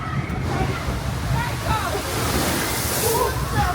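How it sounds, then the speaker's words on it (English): Water from a splash boat ride at Duinrell theme park rushes and sloshes in a continuous loud wash, with a few splashes riding over the roar. "So that's the splash boat."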